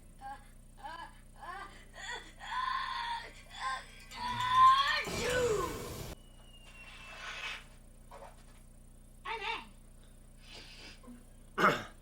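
A sudden loud sneeze-like burst with a rushing whoosh, surrounded by scattered voices and short vocal sounds.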